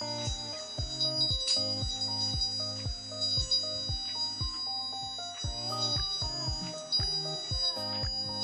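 Arduino Grove buzzer module driven by PWM and controlled by a potentiometer, giving a rapid series of electronic beeps and tones in a repeating, melody-like pattern, fairly close and steady.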